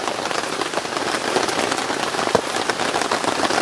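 Steady rain falls at an outdoor fishing lake, a dense, continuous hiss of drops pattering on surfaces close by, with scattered louder individual drips, and no voices.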